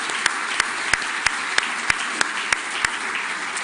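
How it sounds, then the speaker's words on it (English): An audience at a staff awards evening applauds in a steady, dense wash of clapping that holds evenly throughout, with a few sharper claps standing out at regular intervals. "So please give them a round of applause."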